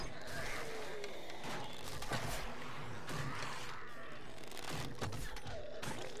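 Gunshots in 7 Days to Die on PS4, a run of sharp cracks scattered over a dense, noisy game background, moderately loud and irregular in timing.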